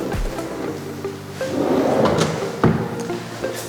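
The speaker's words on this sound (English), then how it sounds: "stainless steel pull-out drawers here where you can store dishes" A stainless steel pull-out kitchen drawer for dishes in a newly built house slides open or shut with a soft rolling rumble, a sharper knock near the end, heard close in a quiet room.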